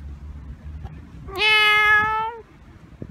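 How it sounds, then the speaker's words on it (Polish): A cat gives one long, loud, close meow lasting about a second, alone against quiet room background. "O, kotek idzie! O, kotek kici, kici, kici."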